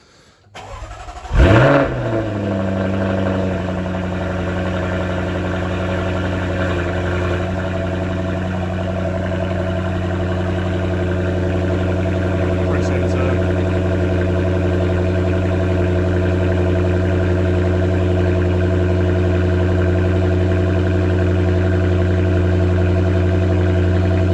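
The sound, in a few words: car engine starting and idling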